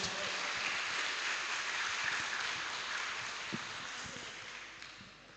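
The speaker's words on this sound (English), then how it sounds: "please give applause for them" Applause from an audience at an international student forum, a steady wash of clapping that holds for several seconds and slowly fades, with no clear voices on top.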